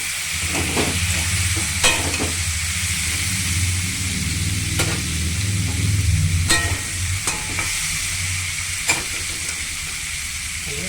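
Pumpkin pieces and pumpkin greens with turmeric sizzle steadily in a pan, with several sharp scrapes and knocks of a spoon as they are stirred, close and continuous.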